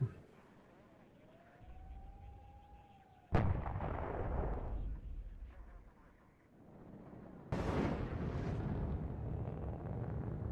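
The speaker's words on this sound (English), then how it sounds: "Let's bring in like a Mi-8 rocket over there just to go check that." Rocket strikes from a Mi-8 helicopter in WARNO hit with a sharp, loud explosion followed later by another heavy blast, with a rising whine and low rumbling battle noise between them.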